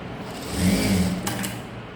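Electric sewing machine stitching a simple blouse at the shoulder seam, a steady mid-level mechanical whir running for about two seconds with a slight swell in the middle.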